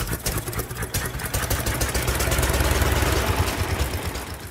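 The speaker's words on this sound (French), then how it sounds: "Le moteur tourne parfaitement." An old car engine, started with a hand crank, idles nearby with a steady, rough mechanical chugging and rattle that thickens slightly over several seconds, with no talk.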